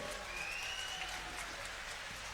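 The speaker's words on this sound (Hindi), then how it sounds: "जोर से ताली बजाइए असीम सरकार जी के लिए।" A rally crowd in Memari claps for a candidate at Amit Shah's campaign event, a steady wash of distant applause with a faint whistle and murmur on top.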